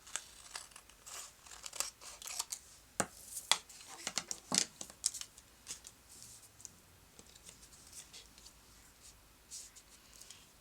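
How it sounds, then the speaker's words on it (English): Scissors trimming a photo page for a baby book, with soft repeated snips and papery crinkles in an irregular rhythm, faint and close in a quiet room. "I'll just trim off the extra first so I can see where that bottom edge is."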